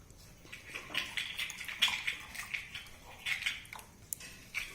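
Water trickles and splashes in short bursts into a cup holding a spoonful of sand, a soft, close pouring with brief pauses between pours.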